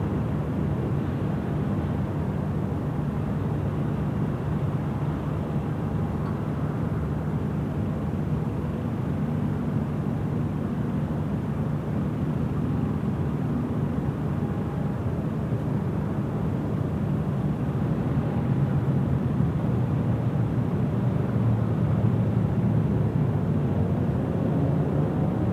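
A FedEx cargo plane departs Sydney Airport in the evening with a steady, broad engine roar that holds at constant loudness throughout, heard from a distance with no voices over it.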